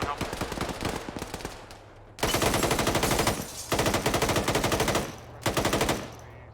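Sustained automatic machine gun fire in a video game squad training session, loud rapid bursts in several long strings separated by short pauses, with other gunshots mixed in.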